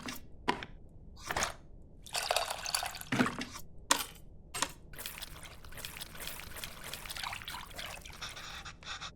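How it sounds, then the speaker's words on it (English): Water being mixed with tamarind in a bowl in the cooking game Venba, heard as a run of sloshing, splashing and pouring bursts, close and steady, with brief gaps between strokes. "I have to mix the tamarind with the water to extract its essence multiple times"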